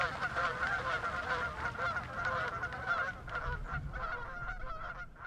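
A flock of geese in Fairfax County honks repeatedly in overlapping nasal calls, a continuous chorus at moderate distance with a faint low background rumble.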